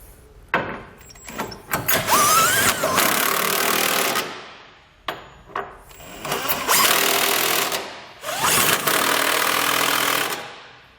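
A 15/16 or 24 mm socket on a ratchet tightens the bolts holding above-bed base rail brackets to the frame of a 2018 GMC Sierra, heard as three long, loud runs of rapid clicking, close up, with no talk.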